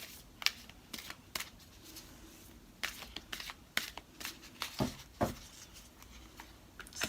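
Angel Answers oracle cards being handled and shuffled, a series of soft, crisp card flicks and slaps in irregular bursts, close and fairly quiet with no talking.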